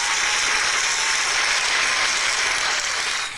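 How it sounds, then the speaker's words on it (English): A short applause sound effect triggered by a button, a dense, even wash of clapping at steady loudness that tails off at the end. "That's my applause button."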